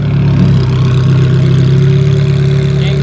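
An older Ferrari engine idling at a sports car festival at Wörthersee, a loud, steady low rumble with an even mechanical hum and no revving, close by, with no speech.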